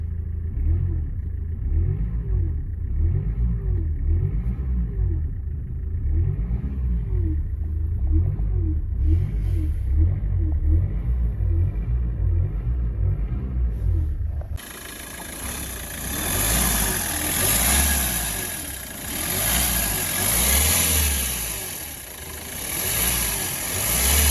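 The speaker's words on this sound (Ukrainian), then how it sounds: "тільки даєш більше обороти, починає підвивати" Hyundai Accent 1.5 CRDi diesel engine with a faulty alternator, idling and then revved so a whine rises over the steady rumble; the engine runs alone at close range with no talk.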